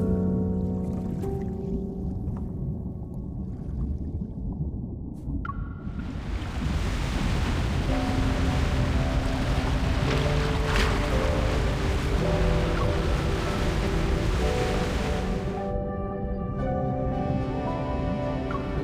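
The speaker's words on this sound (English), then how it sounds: "It's the waves. They're just too strong." Strong ocean waves surge and wash in the game Love & Deepspace, a loud, steady roar of surf that swells sharply in the middle and eases toward the end, layered under a soft musical tone.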